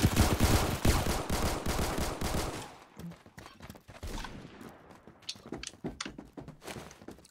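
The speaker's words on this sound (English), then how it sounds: "So they are shooting the building, but I'm inside here." Rapid automatic gunfire rattles loudly against a building in Roblox Phantom Forces, then thins into scattered, fainter shots and dull impacts heard from inside.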